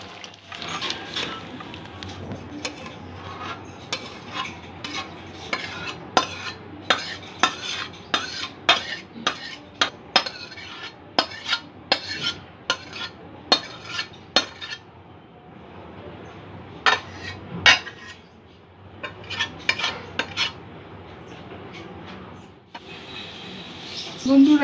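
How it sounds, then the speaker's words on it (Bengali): Tomato, dried-mango and date chutney scraped and spooned from a cooking pan into a pot, with repeated sharp metal clinks of spoon against pan, close and fairly loud, with brief pauses between. "এবার এটা আমি পটে ঢেলে দেব।"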